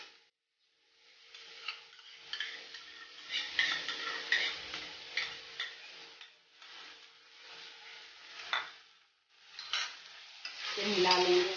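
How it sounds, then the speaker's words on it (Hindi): Capsicum and tomato sauce being stirred in a frying pan, quiet repeated scraping strokes of the spoon against the pan with a soft sizzle, rising to a louder burst of frying at the end. "फिर मिला लेंगे अच्छे से।"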